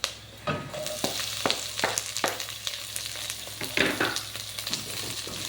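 Chopped onions sauté in a hot pan for Filipino chicken soup with chayote, a steady close sizzle broken by repeated sharp scrapes and clicks of a stirring utensil, with no talking.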